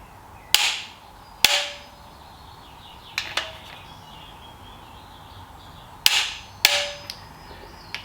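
A torque wrench clicking as bolts on a TED20 rocker arm are tightened, with sharp metallic clicks in two pairs and a couple of fainter ticks between them, close and clear over a quiet workshop background.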